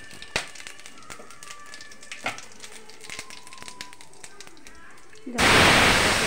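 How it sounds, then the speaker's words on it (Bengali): Whole garam masala and cumin seeds drop into hot oil in a pressure cooker and burst into a loud, continuous sizzle that covers everything. Before that come a few quiet kitchen knocks and clatters. "এবার চাপিয়ে দিচ্ছি, গোটা গরম মশলা ফোড়ন দিলাম, জিরে ফোড়ন দিলাম"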